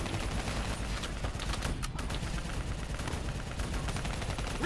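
Video game battle gunfire against a VTOL and an APC: dense, continuous bursts of automatic fire and overlapping shots, loud and close, with no clear pauses.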